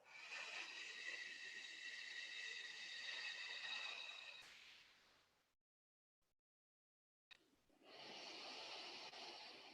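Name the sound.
slow breathing out through the mouth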